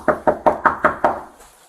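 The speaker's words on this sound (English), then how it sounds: "how would you know we're knocking on the door?" Six firm, evenly spaced knocks on an apartment door, close and loud, each a sharp thud with a short decay, followed by quiet.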